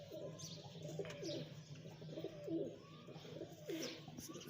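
Large pigeons kept in a loft coo repeatedly in a rolling rhythm, several throaty calls close by with a few faint chirps mixed in and no talking.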